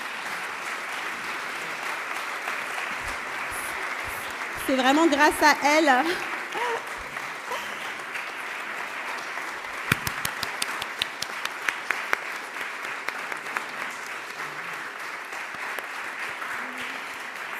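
Seminar audience applauding at length, a steady wash of clapping with a speaker talking briefly over it and some closer, sharper claps toward the middle.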